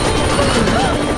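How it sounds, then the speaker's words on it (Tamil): Helicopter lifting a jeep in an Indian action film scene, its loud rotor and engine drone continuous and close throughout the short stretch. "ஹெலிகாப்டர் மூலமா அந்த ஜிபே தூக்குது பாருங்க, தூக்கிட்டு போயிட்டு இருக்கு."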